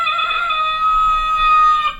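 A rooster-crowing chime plays from an Avantek wireless doorbell, a single loud, close, electronic crow that sustains for about two seconds and then cuts off.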